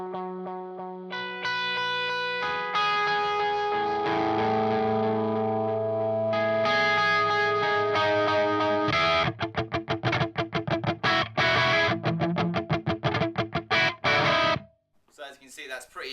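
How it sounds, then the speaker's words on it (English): Electric guitar moving from a clean tone with delay to a distorted amp channel with a noise gate, ringing chords giving way to loud, tightly chopped dirty strums that cut off abruptly into silence. "going from a clean and delay and no noise gate to changing the channel on the amp and having the noise gate in at the same time"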